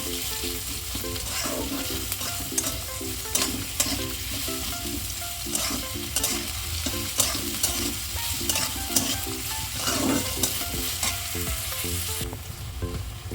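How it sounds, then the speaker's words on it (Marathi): Onions sizzle steadily in a pan as they are fried until brown, with a continuous close frying hiss and intermittent scrapes and clinks of stirring. "तर कांदा चांगला ब्राऊन कलरचा होईपर्यंत आपण ह्याच्यावरती भाजून घ्यायचा"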